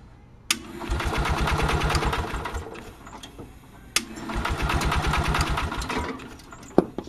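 An Onan generator engine cranks over in two separate bursts, each a few seconds of fast, rhythmic mechanical chugging that starts with a sharp click and stops without firing.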